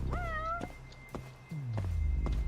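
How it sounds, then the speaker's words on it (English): Meowing from a cat in the game Judgement: one clear, close meow at the start, then a lower, drawn-out cry, with soft thuds in the game ambience. "I'm hearing the cat"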